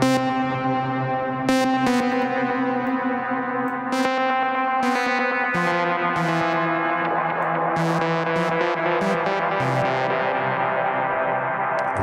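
Arturia MiniBrute V software synthesizer chords played with a delay preset, each note echoing and trailing into the next, sustained and loud with a washy, repeating tail.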